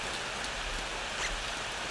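Steady rain in the video game Corpse Party, a soft, even hiss of falling drops at low level, with nothing else over it.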